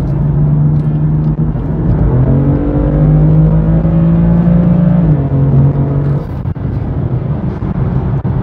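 A 2017 BMW M4 engine pulls strongly under acceleration, its steady droning pitch rising through a gear, loud and close with road rumble underneath.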